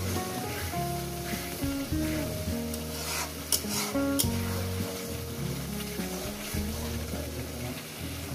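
Ghee sizzles in a pan while chicken kosha cooks, a soft continuous frying hiss partly masked by louder melodic background music.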